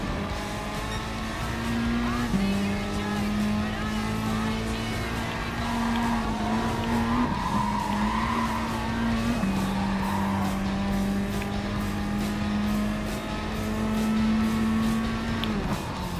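In Gran Turismo Sport, a Gr.4 front-wheel-drive race car's engine holds a loud, sustained drone through a daily online race, its pitch stepping down and back up with gear changes, while tires hiss and faint crowd or track noise sits underneath.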